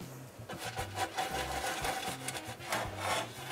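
Greasing a cake pan with coconut oil for a vegan berry ice cream cake, a steady soft rubbing and scraping of fingers or brush over the pan surface, close and continuous without talk.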